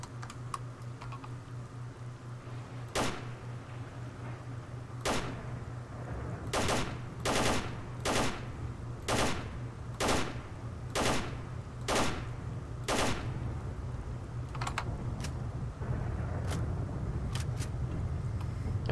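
Gunfire in the STALKER video game comes as a string of sharp single shots, spaced irregularly and clustered in the middle, over a steady low hum.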